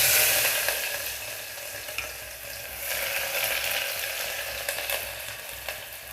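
Onion, green chillies and five-spice seeds frying in hot oil for a taro curry, a steady close crackling sizzle with occasional stirring scrapes.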